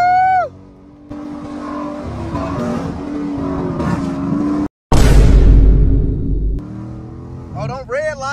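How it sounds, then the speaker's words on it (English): A Dodge Challenger R/T with the 345 engine pulls hard, the engine note rising loudly through a gear with a brief break and a surging roar, close by, while people in the car talk and shout over it. "He's about to give us a pull."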